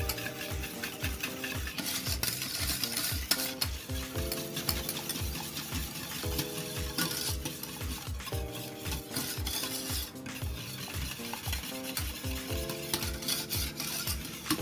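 Pectin is stirred into a blueberry marmalade purée in a pan, a continuous close rhythmic scraping and swishing with a faint bubbling hiss underneath, steady throughout, with no talking.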